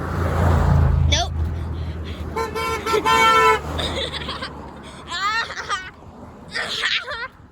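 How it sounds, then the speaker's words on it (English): Passing cars honk on a roadside, several short toots and longer blasts spread through the stretch, with traffic noise and laughter around them. "we're already getting a bunch of honks"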